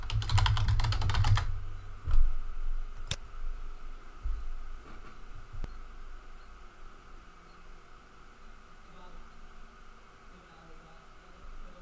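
Someone types passwords on a computer keyboard during a software installation: a fast, close burst of keystrokes in the first second or so, followed by a few isolated clicks over a quiet hum.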